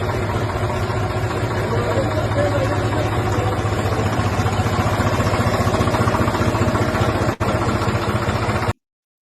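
A farm tractor engine idling steadily up close, a dense low rumble with even rhythm that holds for about seven seconds, breaks off briefly, then resumes before cutting out.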